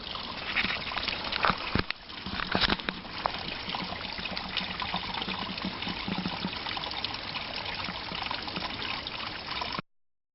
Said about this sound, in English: Here's the first nice little waterfall spot I've come to, just a little trickle down the hill.